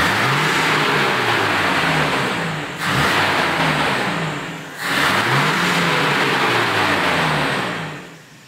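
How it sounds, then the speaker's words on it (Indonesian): An older Toyota Kijang engine is revved hard three times in a row, each throttle blip swelling into a loud mid-pitched roar and then dropping back briefly, close by with no voices. "Dan ini pada saat kita gas dia langsung respon."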